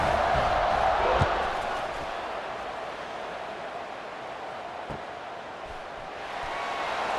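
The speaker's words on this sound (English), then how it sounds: "this crowd now ready to get behind them" Stadium crowd noise in EA Sports College Football 26, a steady broad roar from a large football crowd ahead of a kickoff, swelling slightly at the start and end under a commentator's voice.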